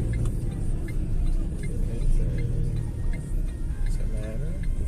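1.0-litre car speeding up a little during a driving lesson, a low engine rumble rising slightly under voices talking inside the cabin.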